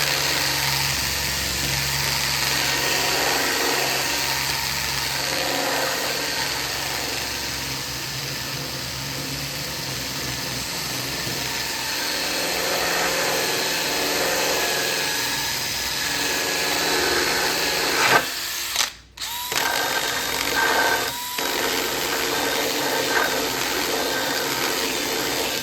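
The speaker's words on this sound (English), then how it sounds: "I then have a drum on my drill, and this one's very coarse. It's about a 60 grit" A drill spinning a very coarse 60-grit sanding drum against wood while shaping table legs runs as a steady, loud motorized whir for most of the stretch, broken by a brief stop near the end before resuming.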